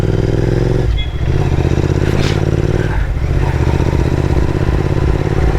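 A Royal Enfield GT 650 with its 650cc, 47 bhp twin engine being ridden: a loud, continuous engine drone mixed with road and wind rush, with brief shifts in tone and no talking.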